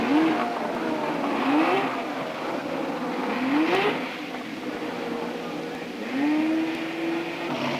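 Open-wheel IndyCar race cars from a 1975 500-mile race roar past in repeated rising engine sweeps, several cars in succession accelerating loudly down the backstretch over a steady crowd-and-engine din.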